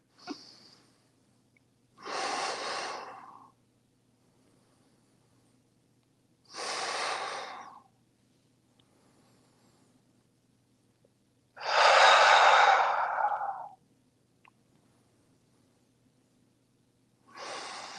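Slow, deep breaths are taken while holding a yoga twist. Four long, close, airy breaths come one after another, separated by quiet pauses, with no talking.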